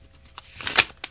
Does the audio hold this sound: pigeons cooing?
no